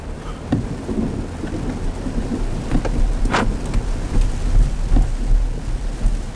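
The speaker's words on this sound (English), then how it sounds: "Started raining as soon as I got into Evansville." Steady heavy rain with rolling thunder rumbling through it, several crackling peaks rising above the constant downpour.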